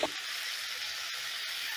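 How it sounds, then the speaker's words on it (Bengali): Ginger and green chili paste with a little water sizzles steadily in a hot pan, a close, even hiss with a few faint stirring ticks and no voices. "এবারে এই মশলাটাকে আমি হালকা করে একটু ভেজে নিচ্ছি"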